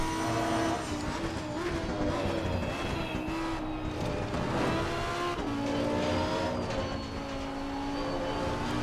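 A high-revving V10 engine of a Lamborghini Huracan EVO GT3 in Assetto Corsa Competizione at Imola roars continuously, pitch climbing and dropping through gear shifts, loud and close with no talking.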